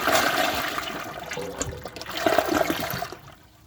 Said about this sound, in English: I'm guessing that it'll flush pretty well, but it probably won't fill the bowl before it goes down.